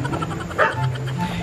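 A dog barks in the dark outdoors at night, giving a short yip or bark that sounds at a moderate distance over background noise.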